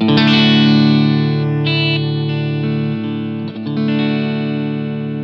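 Guitar played through a Blackstar ID:CORE V4 practice amp on its clean warm voice with all knobs at noon: sustained, ringing chords with a wide shimmering chorus-like stereo spread, loud and alone.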